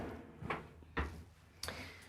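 Drawers in a 2023 Newmar London Aire 4551 motorhome being opened and shut, giving three separate soft thumps and slides spaced across a quiet interior.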